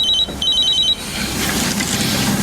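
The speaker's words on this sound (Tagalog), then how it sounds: "may tumatawag po sa cellphone niyo" A mobile phone rings in a repeating electronic trill, two bursts close by, then gives way to a broader rumbling background.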